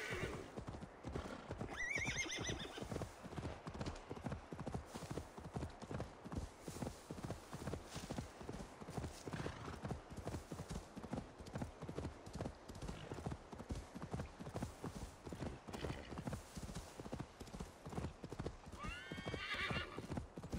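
Rapid, rhythmic hoofbeats of a galloping horse in Assassin's Creed Valhalla, close and continuous, with a couple of neighs breaking through along the way.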